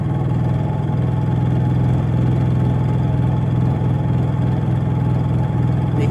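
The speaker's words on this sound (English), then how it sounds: "You'll hear it rev up once I turn this heater on." A Honda generator runs with a heater switched on, giving a steady, close mid-pitched engine drone with a constant hum and only a barely noticeable rise in pace.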